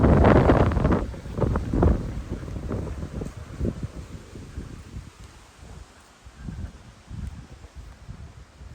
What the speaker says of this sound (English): It's a little bit breezy coming out of the church.